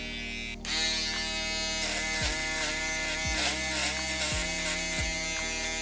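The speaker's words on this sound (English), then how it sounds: "Go in with the detailer." Electric hair detailer trimmer buzzes loudly and steadily up close during a low taper fade haircut, its pitch dipping briefly several times as it meets the hair, with no talking.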